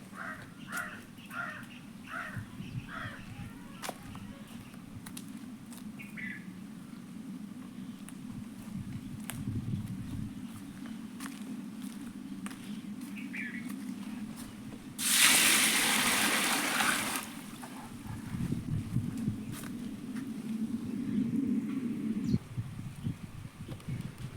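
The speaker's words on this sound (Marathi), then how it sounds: "आता मी त्याच्यात पाणी टाकणार आहे" Water is poured into a container of mixed pulses, a brief loud rushing splash of about two seconds amid quiet room noise, with crows cawing faintly in the distance beforehand.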